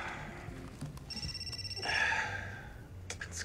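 A telephone rings faintly in short electronic bursts, its tones sitting low under a quiet room background.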